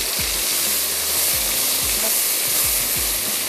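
Chopped tomatoes with garlic and ginger paste fry among golden onions in a pan, giving a loud, steady hiss and sizzle, with low dull knocks from stirring about every half second.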